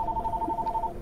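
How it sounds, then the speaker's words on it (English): Telephone rings in the survival horror game Alien: Isolation, a steady electronic trill pulsing in quick repeated bursts for the whole second, clear and fairly close with no talking over it. "Is that a phone?"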